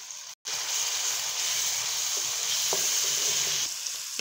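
Meat, given as gosht and also called chicken, fries with spices and softened tomatoes in a pan, a steady loud sizzle with soft stirring scrapes, broken by a brief dropout near the start.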